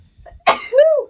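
A single sharp sneeze bursts out close to the microphone and ends in a short voiced trailing sound, with quiet room sound before it.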